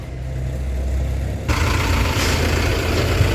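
A combine harvester arrives at a rice paddy field during harvest, its engine a steady close rumble that swells louder and brighter midway as the machine draws near.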